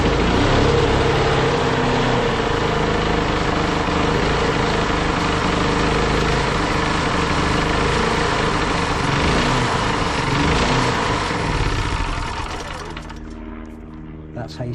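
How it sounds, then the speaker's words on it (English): A small engine, pull-started for its first use, runs loud and steady at a high buzzing pitch like a lawn mower, close by, for over ten seconds before it cuts out, while someone talks over it. "That's how you start an engine first time."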